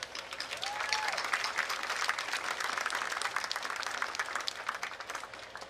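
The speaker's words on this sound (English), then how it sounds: "Graduates, let's give them a round of applause." An audience at a Mount Sinai Class of 2024 graduation ceremony applauds, a broad, sustained roll of clapping from a large crowd with a brief cheer early on.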